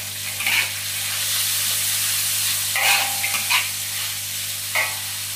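Soybean sprouts are stir-fried in a hot wok with seasonings, giving a steady loud sizzle broken by a few scraping stirs of the spatula.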